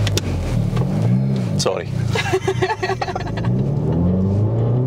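Hyundai i30N engine on launch control, revving hard with rising and falling sweeps near the microphone, then holding at a steady high drone, with a voice briefly speaking over it.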